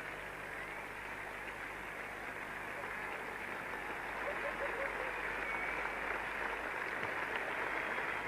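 Steady wash of applause at a 1980 England v West Indies cricket Test match after a wicket falls, even and fairly distant, rising slightly in the second half.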